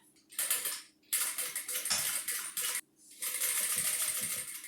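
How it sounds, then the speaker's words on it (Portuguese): A sewing machine with a presser foot stitching the zipper of a tote bag, fast rattling runs of stitching broken by two short pauses, loud and close. "agora eu venho costurando com um pé de máquina"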